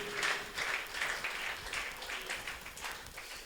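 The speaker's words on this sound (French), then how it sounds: "Acclamez très fort" An audience at a church miracle and prophecy service claps and applauds in a steady, moderately loud patter that fills the moment with no voice over it.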